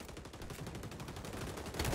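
Rapid gunfire from the shooter video game XDefiant crackles in a dense, continuous burst, fairly loud and close, with a heavier hit near the end.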